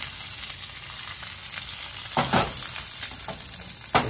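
A venison burger sizzles in hot oil after being flipped, a constant loud frying hiss with a couple of brief scraping bumps from the spatula.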